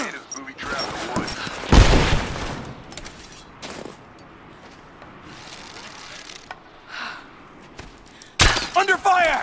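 Bursts of gunfire and impacts crack through a firefight in the action game Rise of the Tomb Raider. A sharp loud blast comes early, then scattered shots follow and a heavy volley closes it, with voices shouting amid the fighting.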